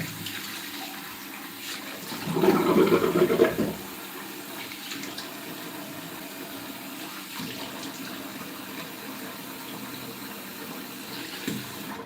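Water runs briefly from a tap, a short gush that swells and stops after a second or so, followed by quiet room background.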